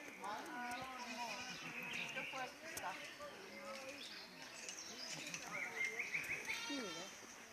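Goats bleat repeatedly in the open, several wavering cries overlapping, with people chatting throughout and birds chirping faintly behind.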